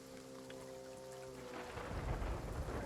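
Rain and thunder in a video game: steady rainfall with a low rumble of thunder building and swelling louder toward the end, alongside a faint sustained tonal hum.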